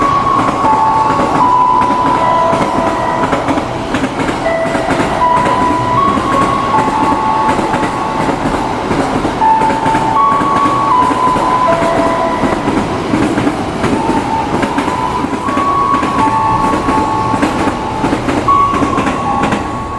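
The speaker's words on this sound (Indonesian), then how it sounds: "baru saja kereta api peti kemas melintas arah Semarang" A container freight train rolls past a harbour-side station on the line toward Semarang, its wagons clattering steadily and loudly with a continuous rumble and rhythmic wheel clicks for the whole stretch, with no voices.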